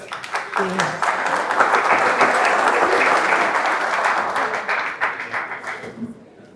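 An audience at a book club talk breaks into strong applause that swells quickly and holds for several seconds before tapering off, with a voice briefly heard at the start and end.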